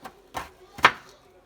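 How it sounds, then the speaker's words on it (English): A knife chops through onions on a cutting board in three separate, close, crisp strokes with short pauses between them. "just in case y'all want to see me cut some onions"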